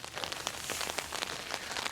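Rain pattering on a tent on a forested mountain, a dense, close patter of drops hitting fabric with irregular sharper taps, steady throughout and heard alone.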